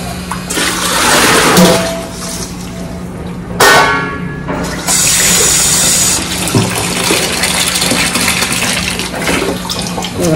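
Water runs steadily from a tap and splashes into a vessel, with sloshing as mung beans are rinsed, loud and close.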